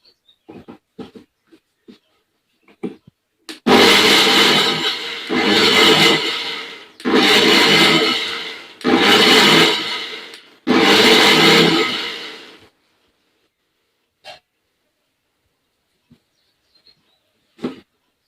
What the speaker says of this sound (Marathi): आणि आता हे मिक्सरमध्ये बारीक करून घ्यायचं